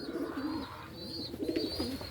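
Racing pigeons in a champion loft coo repeatedly in soft, low rolling phrases, close by, with a faint higher bird call in the background and no talking.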